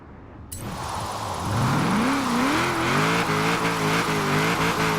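Nissan S14 drifting in Forza Horizon 4, engine droning loudly and continuously, pitch wavering up and down as the car holds long sliding transitions through a lengthy drift zone.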